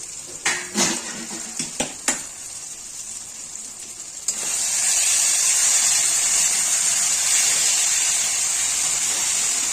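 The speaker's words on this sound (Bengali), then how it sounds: "এদিকে ঢাকনাটা তুলে দেখাচ্ছি" A lid lifted off a pot of fish curry with potato and tomato: several metallic clinks and taps, then a steady loud hiss of steam and sizzling that continues to the end, with no talking.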